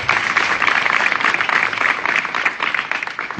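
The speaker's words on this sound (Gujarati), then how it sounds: "એકવાર તાળીના નાદથી વધાવો." Sustained applause from an audience at a devotional satsang gathering, dense and steady clapping filling the whole stretch at an even loudness with no talk over it.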